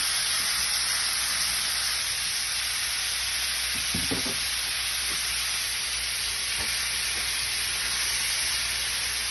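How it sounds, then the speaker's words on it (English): Meat fries in olive oil over high heat with a loud, steady sizzle, broken by a few clinks and scrapes of stirring near the middle. "I have the meat cooking. I put olive oil, it's on high heat, and it's cooking"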